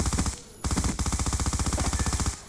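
Rapid sustained bursts of QBB LSW light machine gun fire in Black Ops 2 on Xbox 360, loud and evenly rhythmic, with a brief pause near the start before the firing resumes.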